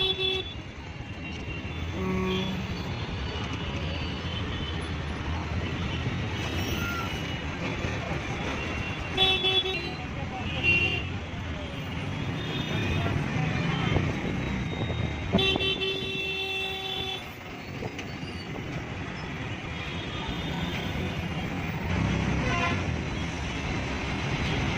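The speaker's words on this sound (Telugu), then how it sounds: "హైదరాబాదులో నైట్ 9 తర్వాత కూడా ట్రాఫిక్ ఏ విధంగా ఉంటుందో ఒక్కసారి చూడండి" Busy Hyderabad city road at night: a dense rumble of cars and motorbikes with repeated car horns honking near and far, short toots scattered across a steady roar of traffic.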